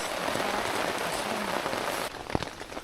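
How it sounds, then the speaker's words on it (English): Steady rain drums on a tent during jungle camping, a dense continuous patter with a few sharper nearby drops, and the sound turns slightly muffled toward the end. "I think you can probably hear the rain."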